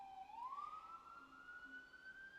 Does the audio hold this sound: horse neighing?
no